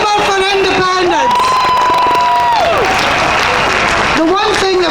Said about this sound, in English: So come on, a big round of applause.